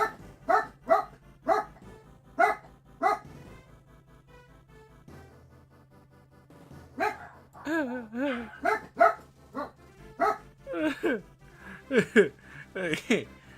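Several pet dogs barking in bursts, close and loud, with yips and whimpers mixed in, a pause in the middle, then excited overlapping barks and whines while a person talks over them.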